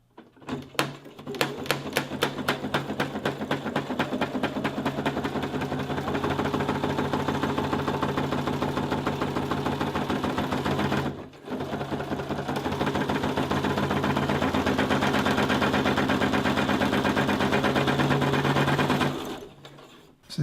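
A sewing machine stitches trims onto pool table cloth pockets, running in long steady bursts of rapid mechanical clatter with one brief pause midway, close and loud with no talking.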